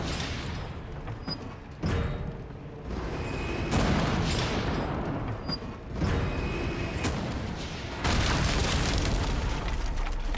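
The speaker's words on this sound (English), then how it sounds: "I did not know you could fight the zealots with the cannon." Cannon fire aimed at zealots in Resident Evil 4, heavy booming blasts with long rumbling tails, several bursts spread across the stretch amid loud, dense game noise.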